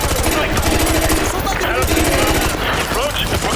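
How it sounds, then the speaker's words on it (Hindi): Enemy gunfire during the Takedown campaign mission of Call of Duty Modern Warfare 2 Remastered: loud, dense automatic fire rattles on without pause, with a voice talking beneath it. "कोई ना कोई बंदा तो मेरे ऊपर फायर कर रहा सामने से"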